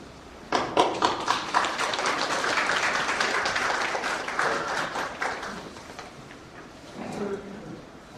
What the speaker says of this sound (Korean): 뜨거운 박수로 맞으시고 감사하겠습니다